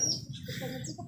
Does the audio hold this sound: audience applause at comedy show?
no